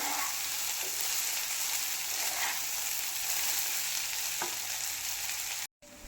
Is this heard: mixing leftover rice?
yes